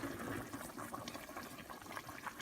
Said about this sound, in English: Then I'm gonna let this simmer again for 5 minutes.